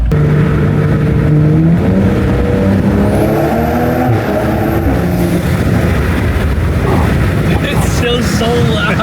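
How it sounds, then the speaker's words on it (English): BMW with an SSR downpipe and a loud exhaust, valves closed, revving hard up close, with a steady, dense engine roar and rising and falling harmonic whines throughout. Voices are heard faintly over it. "The exhaust is so hella loud. That's with the valves closed."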